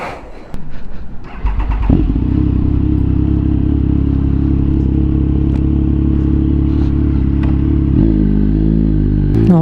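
Triumph Speed Triple 1050 motorcycle pulling away after passing its MOT in the UK: the engine starts and settles into a loud, steady close-up drone, then the pitch shifts near the end as it revs and rides off.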